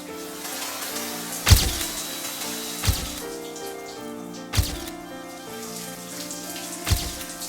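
Water from a shower head splashes onto a glass cup, giving four sharp splashing bursts spaced a second or two apart over a continuous running-water wash, with no talk.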